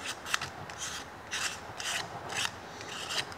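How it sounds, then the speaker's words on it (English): Rust being scraped off the edge of a metal part during a Ford 9-inch limited-slip differential gear setup, a close, steady rasping of repeated back-and-forth strokes with no talking. "Scrape some of this rust off the very edge."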